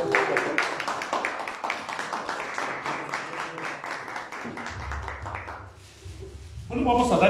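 Applause from the audience at a diocesan press conference, a steady patter of clapping lasting several seconds before fading into a low hum and voices.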